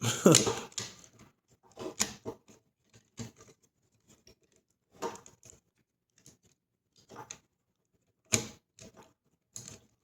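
Plastic parts of a Dreamstar Toys Constructicons Long Haul figure being folded and snapped into place, scattered sharp clicks and rattling bursts separated by quiet gaps, heard up close.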